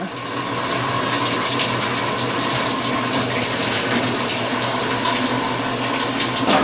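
A top-loading washing machine set to its largest load fills with water, giving a constant loud rushing flow with a low pump-like hum underneath, steady throughout with no voices.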